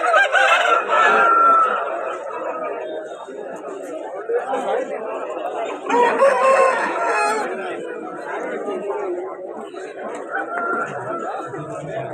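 Roosters crow loudly while hens cluck and chatter at a market in Vijayawada, with people talking in the background.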